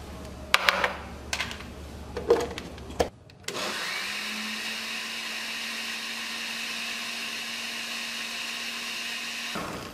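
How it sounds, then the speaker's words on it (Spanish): A countertop blender whirs steadily for several seconds, blending juice with oat fiber after some brief clatter and knocks at the start; the motor hum is loud, close and continuous with no talking. "Ahora lo vamos a licuar con la fibra de avena."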